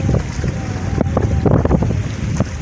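Wind gusts along a Sundarbans riverbank, buffeting the microphone with loud, uneven low rumbling, blown out and close, with faint voices underneath.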